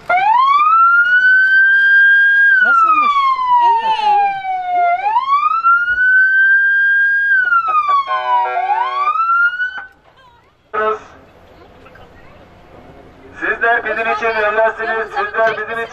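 A loud police car siren wails up and down in long sweeping tones, then cuts off, followed by a short horn blast and a voice.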